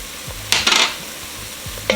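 Onions and garlic cooking in a soup pot make a low sizzle under a few sharp spoon scrapes and clinks against the pot, with short bursts of louder stirring.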